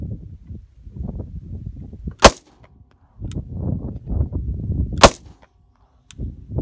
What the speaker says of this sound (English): Just squeeze the trigger and let the gun go off.